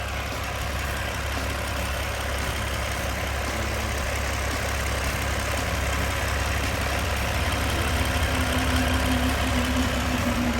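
The Komatsu 6D105 diesel engine in a WA300-1 wheel loader idles steadily, a constant low rumble with a faint knock throughout and no talking.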